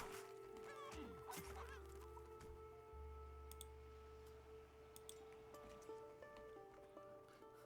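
Chickens clucking in a video game while being attacked, quiet, scattered clucks and squawks over a low steady hum, with a few soft clicks and ticks and no talking.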